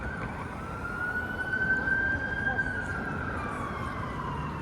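A police cruiser siren wails steadily with a rising and falling tone over rumbling road traffic on Bay Street, downtown Toronto, growing louder near the middle as it passes.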